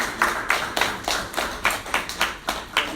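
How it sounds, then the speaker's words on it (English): A small audience at a product presentation claps in a steady, rhythmic beat, about three claps per second, moderately close and clear with no talking over it. "give Martha a huge round of applause for it"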